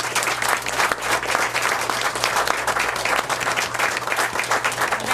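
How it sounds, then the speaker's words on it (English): An audience at a soul and blues festival's authors panel applauds, a dense, steady patter of many hands clapping for several seconds under a low constant hum, with no voices standing out. "Let's give the panel another round of applause."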